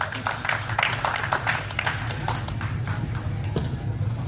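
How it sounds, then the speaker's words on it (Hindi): An audience at a talk on Magadh art and history claps in a sustained burst of sharp, dense hand claps over a low steady hum, continuing for several seconds. "लेकिन सर लगे एक बार ताली बजाते हैं अपने सर"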